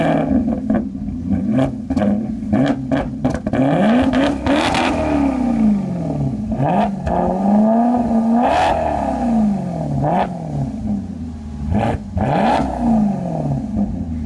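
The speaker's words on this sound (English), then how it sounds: "Maserati GranTurismo 2012" 2012 Maserati GranTurismo Sport engine revving up and down repeatedly at close range, loud rising and falling roars with sharp blips and crackles between them, no talking.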